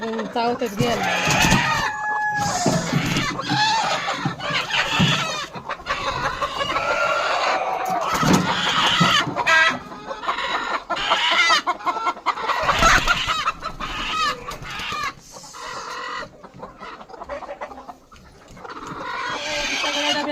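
Broody desi hens sitting on eggs cluck and squawk continuously close by, a dense agitated chorus with occasional louder calls, a voice talking over them.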